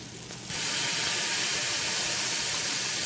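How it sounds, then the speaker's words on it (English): Minced garlic hits a hot pan and breaks into a loud, steady sizzle that starts abruptly and holds as a dense broadband hiss, close and continuous, with no talking. "I'm going to put some minced garlic in here, about a teaspoonful"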